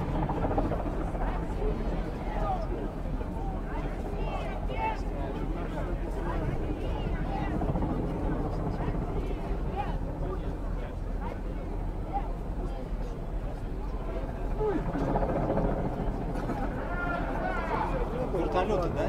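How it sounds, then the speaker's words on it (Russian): Helicopters fly over a peace march rally in Moscow, a continuous low droning rumble blended with crowd chatter and people talking nearby throughout. "Вертолеты летают."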